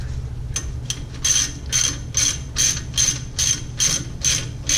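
A ratchet clicks in steady rapid bursts, about nine strokes in a row, tightening wheel studs back down to snug on the hub of a 2014 Ford Explorer. Close and loud, with no talk over it.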